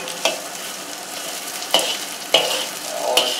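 Garlic and onions fry in oil in a pan, giving a steady broad sizzle broken by a few sharp scraping stir strokes. No one speaks.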